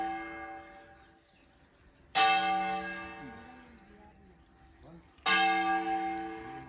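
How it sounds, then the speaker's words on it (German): Church bells at Lluc Monastery in Mallorca ring out for a service, two strong strikes about three seconds apart, each bloom of bright overtones slowly decaying into a sustained ringing hum. "Da sind, würde ich sagen, die Glocken für den Gottesdienst, der in 10 Minuten stattfindet."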